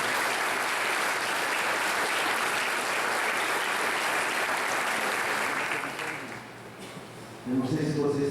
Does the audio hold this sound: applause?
yes